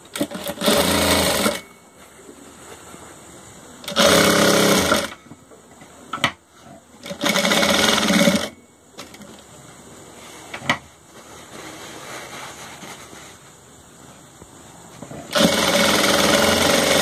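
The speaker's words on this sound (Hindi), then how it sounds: "अब इस पे भी एक लव सिलाई मार लेते हैं" A sewing machine stitches wrestler's shorts in loud bursts of a few seconds each, separated by quieter handling sounds and brief clicks.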